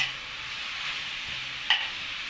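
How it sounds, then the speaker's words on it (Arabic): Hot chili peppers fry in a pan for a ground-meat goulash pastry filling and are stirred, giving a steady sizzle with a short sharp scrape near the end, close and alone. "نديها تقليبه"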